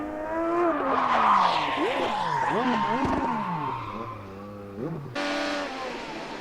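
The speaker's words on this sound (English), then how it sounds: "Now Kimball spins in turn number 2." An IndyCar engine screams through rapid gear changes as the car spins in a turn, with tires squealing and skidding, followed by a sudden burst of broadband noise.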